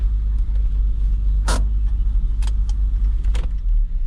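An older car's engine idles low and steady while reversing, a constant rumble with a few brief clicks and rattles on top, no voices.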